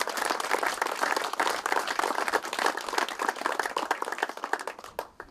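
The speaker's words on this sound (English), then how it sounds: "So how about a big round of applause for the city?" Audience applause at an amateur golf tournament trophy presentation, steady dense clapping from a crowd lasting several seconds before tapering off at the end.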